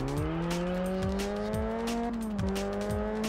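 A fast car in the Test Drive Unlimited racing game on PS2 powering out of corners: a loud, continuous engine whine climbing through several quick gear changes, with faint tire squeal and no voices.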